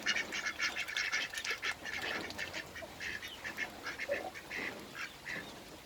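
Ducks quack steadily while being fed, a busy, overlapping chorus of nasal calls close by that runs the whole time without a break.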